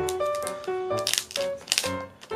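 Packaging of a Wacom Intuos Comic CTH-490 tablet being opened and handled, close crinkling, rustling and scraping in irregular bursts, with some clattering toward the end and no talking.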